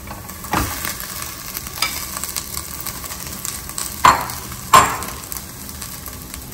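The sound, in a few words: rice being stirred and fried with salt for coconut rice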